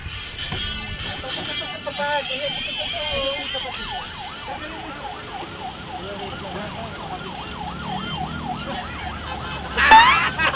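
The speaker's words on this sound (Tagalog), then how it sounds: "Ambulansya!" A wailing ambulance siren rises and falls in steady cycles, fairly close, over traffic noise with a few voices in the background.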